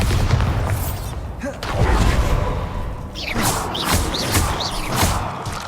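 Bombarda spell explosions in Hogwarts Legacy, a wizarding video game, with several loud booming blasts and whooshing bursts following one another over a rumbling game soundscape.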